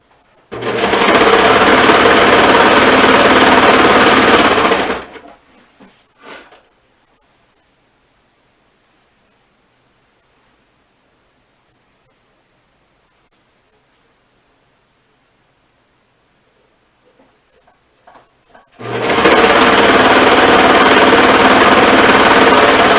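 A sewing machine runs a seam on a crossover top while the fabric is stretched and lined up. Two loud, close, continuous runs of whirring are separated by a long near-silent pause.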